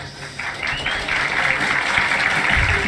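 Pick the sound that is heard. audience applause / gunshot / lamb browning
audience applause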